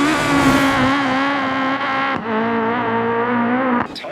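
Rally car engine from Assetto Corsa Rally, a loud sustained high-revving scream with strong harmonics, brief dips around gear changes and a sharp pop near the end, with no talking over it.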